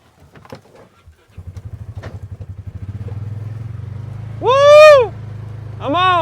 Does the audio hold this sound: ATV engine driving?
yes